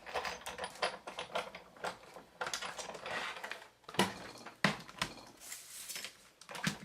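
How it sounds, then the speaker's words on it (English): A Big Shot die-cutting machine cuts a larger stitched lollipop holder die, giving faint clicking and clattering sounds in irregular bursts, like ratcheting handle turns and metal plates shifting. "I'm going to use my Big Shot to cut this out."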